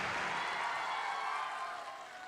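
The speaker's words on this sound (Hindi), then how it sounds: "एगो रानी खातिर जोरदार ताली" Audience applause and crowd noise for Rani at a Bhojpuri award show in Dubai, a dense steady wash of clapping that fades slightly toward the end.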